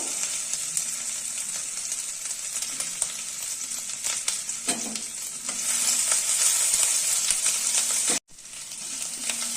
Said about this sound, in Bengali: সেই তেলে তেজপাতা, লঙ্কা, জিরে ফোড়ন দিলাম